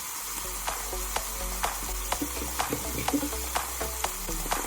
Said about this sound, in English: I like to sear in a little bit of olive oil